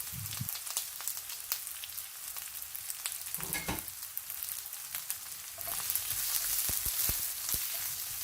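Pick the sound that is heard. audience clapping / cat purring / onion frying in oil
onion frying in oil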